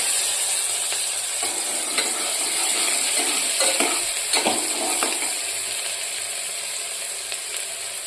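Chopped spring onion whites sauté in a hot pan, giving a loud, steady sizzle throughout with occasional scraping strokes of a spatula near the middle.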